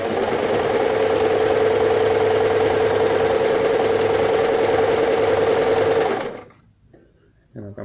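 An Elna Simple 113 sewing machine runs a zigzag stitch at maximum width, a steady, loud, close mechanical whir with rapid needle clatter lasting about six seconds before stopping abruptly, followed by faint handling noises.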